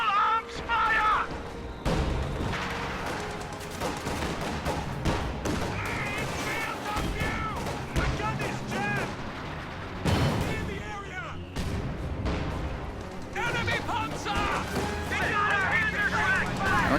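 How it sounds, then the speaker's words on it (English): Small arms fire crackles through a video game battle, rapid bursts of shots and sharp impacts repeating in clusters, with occasional heavier booms beneath. "Contact! Infantry! Taking small arms fire!"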